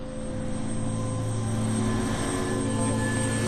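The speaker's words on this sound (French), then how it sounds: "La femelle est à terre, l'hélicoptère peut atterrir." A helicopter sets down during an elephant capture operation at Makalali reserve: a loud, steady rotor and engine drone holds close and unbroken throughout, with no voices.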